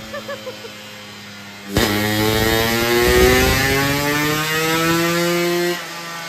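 A motorcycle with an aftermarket exhaust ticks over in a few short pulses, then surges into a loud, steadily climbing rev on a dyno that holds for several seconds before cutting off.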